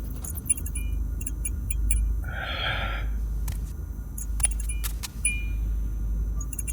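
A set of keys jangles briefly and close by for under a second, set against a steady low rumble like an idling car and a few faint clicks, in an icy station setting.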